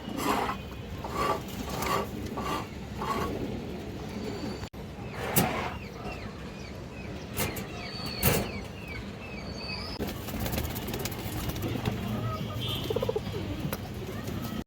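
Pair of large Lal Chulli pigeons, bright red, cooing close by in repeated soft throaty bursts, with chirps from other birds and faint background traffic noise.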